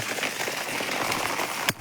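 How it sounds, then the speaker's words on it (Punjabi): Heavy, continuous rain in a Punjab village makes a dense, loud hiss that stays steady throughout and ends in a brief bump. "ਬਾਰਿਸ਼ ਲਗਾਤਾਰ ਜਾਰੀ ਹੈ"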